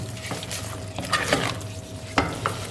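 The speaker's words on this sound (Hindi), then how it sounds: "डालने के बाद अच्छी तरह करेंगे मिक्स" Sugar being stirred into carrot halwa in a pan, a spoon scraping and clinking against the metal in irregular strokes over a low, steady sizzle, close and moderately loud with no talking.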